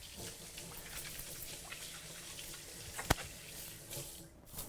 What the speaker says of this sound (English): Just let me wash my hands quick.